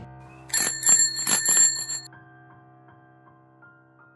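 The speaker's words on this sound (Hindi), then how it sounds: "तभी मैंने अचानक से उन्हीं पोस्टमैन अंकल की साइकिल की घंटे की आवाज़ सुनी" A postman's bicycle bell rings several times in quick succession, bright and metallic, then its tone fades away over a low steady hum.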